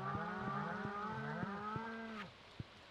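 Cow mooing in the Stardew Valley video game: a long, loud, close moo with steady harmonics lasts about two seconds, with light regular clicks under it and a few soft taps afterward.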